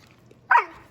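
A dog on a person's lap gives a single short, close yelp that slides down into a whine, heard alone against a quiet room.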